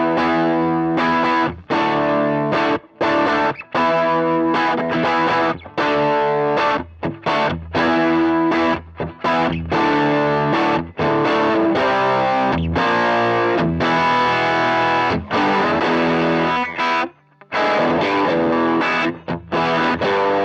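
Electric guitar run through a JHS Kilt V2 overdrive pedal with all its switches down, playing continuous crunchy overdriven riffs and chords for twenty seconds, loud and close with brief gaps between phrases, no talking.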